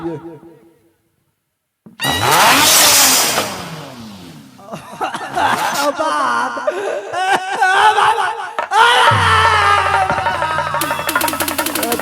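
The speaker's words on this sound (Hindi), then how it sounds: "तनी मोटरसाइकिल स्टार्ट कर" A motorcycle starting and revving during a staged folk nach drama performance, with silence at first, then loud engine roars rising and falling amid laughter, chatter and crowd noise, and a deeper rumble near the end.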